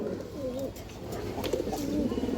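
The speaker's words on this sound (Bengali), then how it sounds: "অনেক সুন্দর একটা মাদি কবুতর একদম কুতুরের মতো একটা মাদি" A female racing pigeon of the red-grizzle type gives soft, repeated coos, close and moderately loud, with light background noise throughout.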